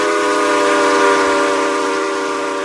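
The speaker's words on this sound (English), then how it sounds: "Hearing this whistle." A steam locomotive whistle in the Roblox sandbox game RO-Scale Sandbox, on an NYC J3A Dreyfuss Hudson hauling the 20th Century Limited, sounds as one loud, steady multi-chime tone held for the whole stretch without a break.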